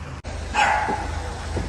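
A dog barks close by in one short burst of a few yelps, over a steady low indoor hum.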